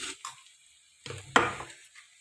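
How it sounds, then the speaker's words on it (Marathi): Green chillies frying in a pan give a soft sizzle that comes in short bursts, with a stronger hiss and stirring scrape partway through, quiet and close, with no one talking. "हिरवी मिरची जी आहे ती परतवून घेतलेली आहे"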